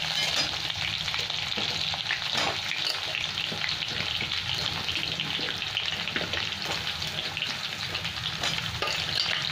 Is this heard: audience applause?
no